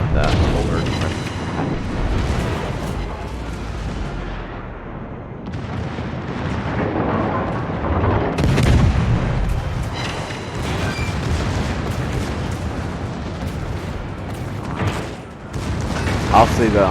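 Naval gunfire in the World of Warships game, with repeated booming salvos and rumbling blasts layered over continuous battle noise, and someone talking over it throughout.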